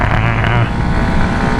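Kawasaki Ninja 125 motorcycle from 2019 with a quiet stock exhaust, a steady buzzing engine drone close up while riding, with a lower tone easing off partway through as the rider prepares to downshift, wind noise underneath.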